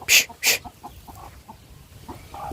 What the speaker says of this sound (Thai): ห่านกันเนาะ